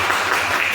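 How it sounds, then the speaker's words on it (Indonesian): A class of students claps together at the end of a lesson, a dense, steady burst of applause filling the short moment. "Beri tepuk tangan."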